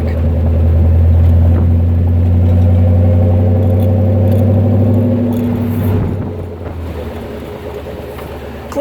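A 1933 Ford Roadster Factory Five replica's engine pulls hard through its five-speed gears, a loud, close rumbling drone that rises and holds before easing off into a quieter idle.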